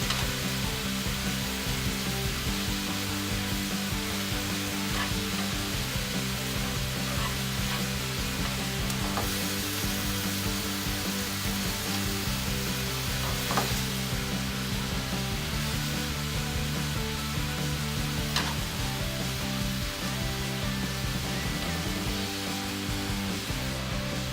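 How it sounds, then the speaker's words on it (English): Marinated bulgogi beef with onion sizzles steadily on a grill, a continuous crackling hiss with occasional louder pops that persists throughout, and no talking. "While you grill the beef, flip them to the other side."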